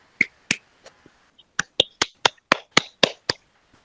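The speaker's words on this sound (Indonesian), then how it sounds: "Berikan aplaus buat kelompok 1." A school class applauding a student group, a short run of about a dozen sharp separate claps, loud and close, irregular at first then quicker.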